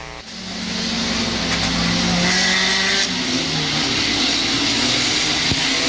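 Street stock sprint cars race on a dirt track at a Sunday night meeting, engines roaring loud and close as the pack goes by, with a sustained droning rev that holds steady and swells slightly.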